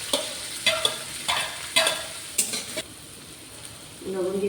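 Finely chopped onion frying in oil and melted butter with bay leaves, a close, bright sizzle broken by several quick stirring scrapes before it settles into a quieter hiss.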